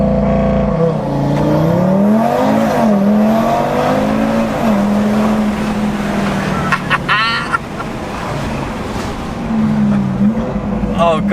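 An Audi RS3 fitted with a Milltek non-resonated catback exhaust pulls hard through the gears, the engine note rising and dropping with each shift, loud and raspy inside the cabin while occupants talk over it.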